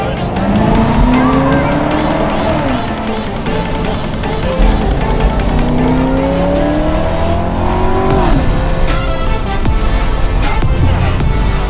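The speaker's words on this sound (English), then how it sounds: "I love these downshifts." Corvette engine revving through downshifts on a street, the pitch sweeping down and climbing again over a steady loud drone, with road noise and a voice briefly under it.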